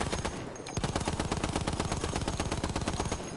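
Rapid bursts of enemy gunfire in a shooter video game crack out in a fast, dense, evenly spaced rhythm, loud and close, continuing for several seconds without talk.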